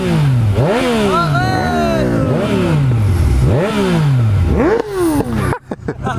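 A BMW S1000RR motorcycle engine revs hard in repeated rising and falling sweeps, loud and close, with several throttle blips before cutting off sharply near the end.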